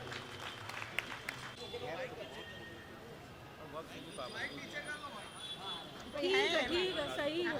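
Audience applause at an All India Mushaira poetry gathering in Nagpada Junction, Mumbai, scattered clapping and crowd murmur throughout, with voices mixed in and a louder burst of reaction near the end.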